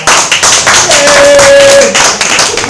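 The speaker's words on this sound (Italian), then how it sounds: "Cornedo Sauro Team, a cui fai un bel applauso" Loud, close clapping for the Cornedo Sauro Team at a Christmas party, quick uneven claps from a small group with a thin tone ringing through the middle.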